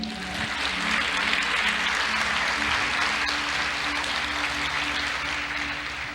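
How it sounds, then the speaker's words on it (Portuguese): Steady, sustained applause from a large church congregation, dense clapping filling the room evenly with no pauses. "Você pode aplaudir o Senhor?"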